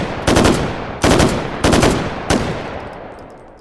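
A virtual M14 rifle fires on full auto in the VR shooter H3VR. Four loud, punchy bursts come close together and evenly spaced, each one tailing off into a ringing decay, with no talk.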